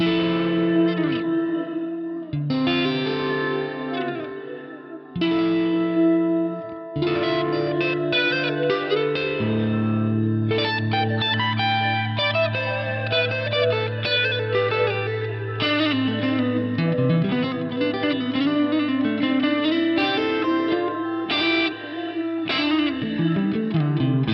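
An electric guitar plays chords and melodic lines through a reverb built from a recording of a cough, strange, filtered and resonant, smearing each note into a short ringing tail.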